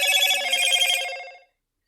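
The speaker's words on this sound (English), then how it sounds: "I got some alerts going on my phone" A phone alert rings with a bright, trilling electronic tone that pulses steadily for about a second and a half. It is fairly quiet and then cuts off, with no speech over it.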